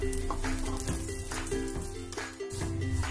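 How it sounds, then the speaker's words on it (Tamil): A cup of vermicelli (semiya) roasts in ghee in a pan, giving a steady, close sizzle with soft crackles and occasional stirring scrapes, and no talking. "அதே நேயில ஒரு கப் அளவுக்கு சேமியா சேர்த்து வறுத்துக்கலாம்"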